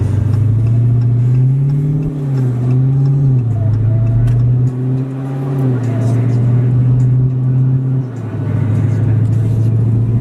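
A 2018 Dodge Demon engine, held on the transbrake, holds a loud, rumbling raised rev from inside the car, its pitch dipping and surging several times before settling lower.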